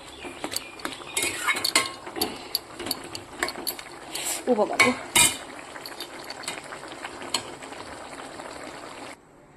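A spoon stirs a dried-fish curry in a pan, with clinks and scrapes of metal coming in bursts over a soft background, growing busier midway and then stopping abruptly before the end.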